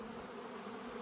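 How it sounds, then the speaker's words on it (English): A steady, faint drone of many honeybees robbing heavily and flying everywhere across a yard, continuous and evenly hovering without pause. "Just a linger of bees flying everywhere."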